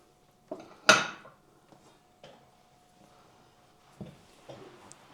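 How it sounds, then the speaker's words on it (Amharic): Minced meat being mixed with onion and garlic in a bowl for meatballs, heard as a few scattered knocks and clinks of a utensil against the bowl, with one louder clatter near the start, close and otherwise quiet. "ቀጥታ እዚህ ጋር ስጋውን ወደ መደባለቅ እገባለሁ።"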